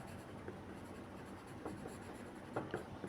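Pen or pencil scratching across paper while labelling a technical drawing of a circle, a steady soft scraping with a few sharper strokes near the end.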